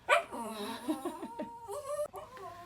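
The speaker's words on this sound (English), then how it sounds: "He can't get up. Poor little doggy." A dog that cannot get up whimpers and whines close by in a bedroom, a series of short high-pitched cries with breathy pauses between them.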